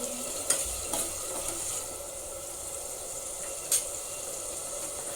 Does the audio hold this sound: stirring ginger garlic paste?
yes